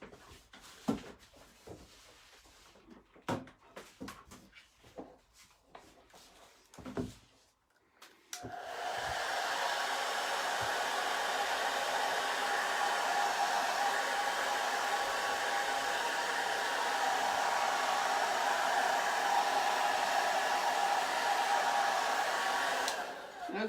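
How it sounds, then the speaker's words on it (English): Scattered handling clicks and taps, then a hair dryer switches on and blows with a steady, loud, continuous whoosh until the end, drying paint on an abstract flag painting. "I think I'm going to use the blow dryer to speed up the drying time."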